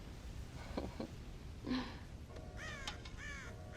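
Crows in the Western video game Red Dead Redemption caw several times at moderate distance, with harsh repeated calls clustered in the second half over a steady outdoor ambience.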